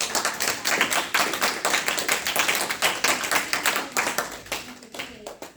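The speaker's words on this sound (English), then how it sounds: "Can we please give a huge round of applause?" Audience applause at the close of a leadership forum evening, a steady round of dense clapping that holds for several seconds and tapers near the end.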